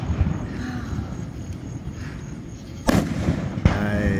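Fireworks bursting over a lake at a summer holiday show, heard from a distance as a steady low rumble with two sharp, louder booms near the end, crackle trailing after.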